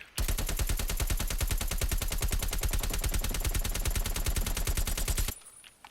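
AK-47 assault rifle in the game Warzone firing one sustained full-auto burst of rapid, evenly spaced, loud close shots for about five seconds, then cutting off into quiet.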